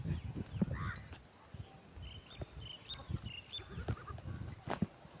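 Goats bleating while being herded outdoors: a few short, scattered bleats, mostly faint and distant, over rustling and soft footsteps.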